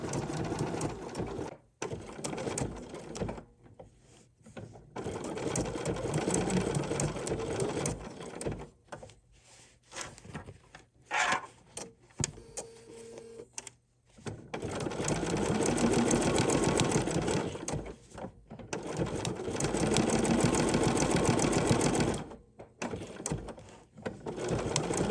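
Sewing machine stitching a fabric applique for a decorative collage holiday postcard, running in steady bursts of rapid needle strokes that stop and restart at pivots, with short pauses and slower single stitches between runs.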